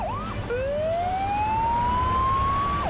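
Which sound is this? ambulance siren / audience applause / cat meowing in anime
ambulance siren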